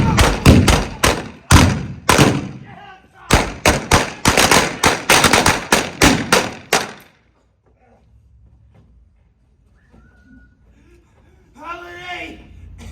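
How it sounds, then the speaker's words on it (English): Gunfire in an O.K. Corral gunfight reenactment: a loud, close volley of sharp bangs fired in quick clusters for several seconds, then quiet, with a voice shouting near the end. "Blaze away, Frank."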